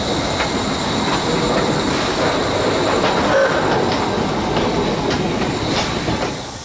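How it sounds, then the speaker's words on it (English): A replica Model T Ford railcar and a Jury shunter turn on a railway turntable, giving a steady rumbling wheel-and-rail drone with faint squeals and clicks. It stays continuous and fairly loud, then eases off at the end. "The Society's replica Model T Ford Railcar RM4 and Jury Shunter TR18, both going for a spin on the turntable."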